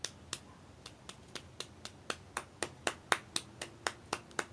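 Children's storytime rain game: a steady run of sharp, light four-finger claps, about three or four per second, imitating rain, close and alone without talk.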